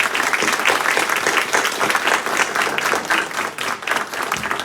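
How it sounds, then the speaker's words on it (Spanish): Sustained, dense applause from an audience at a Spanish-language academic discussion on historian Jorge Basadre, honoring Ir, Piero and Marcel, with steady rhythmic clapping throughout. "un aplauso para Ir, Piero y Marcel por ser tan capos y tan generosos"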